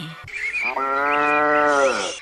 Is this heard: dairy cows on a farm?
yes